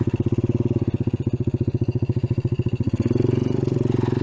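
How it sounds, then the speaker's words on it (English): Off-road motorcycle engine idling and running with a rapid, even pulsing chug, close and loud, shifting to a rougher, busier tone near the end; a carburetor needing adjustment makes it spit and sputter in the mid RPM range. "it has a bit of a spit and sputter somewhere in the middle of the RPM range"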